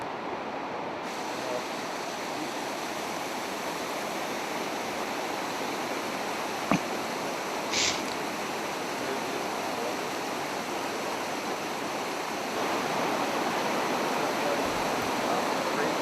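Waterfall beside a hiking trail, a steady broadband rush of falling water close by, continuous and unbroken, with a faint click and a brief chirp over it.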